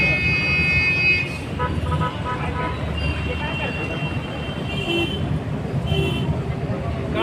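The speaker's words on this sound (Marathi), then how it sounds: "सगळं ट्रॅफिक जाम झाले" A traffic jam on a congested road, with constant engine and road rumble and a high, sustained car horn blaring in the first second, then fainter horn tones later, while voices talk throughout.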